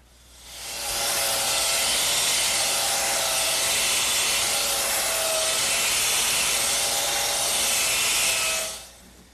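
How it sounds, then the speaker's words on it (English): A handsaw rasps through wooden dowels in one continuous, steady cut, close and loud, starting and stopping cleanly. "I'll just saw these off with my handsaw"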